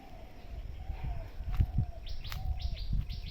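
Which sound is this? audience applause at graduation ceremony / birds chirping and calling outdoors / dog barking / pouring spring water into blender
birds chirping and calling outdoors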